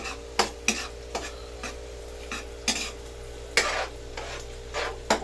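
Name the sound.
squid being sautéed in a pan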